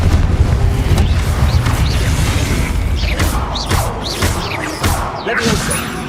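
Confringo fire spell explosions in the Hogwarts Legacy game: loud booming blasts and whooshes over a constant heavy low rumble, with sharp crashing impacts repeating through the clip and no pause between them.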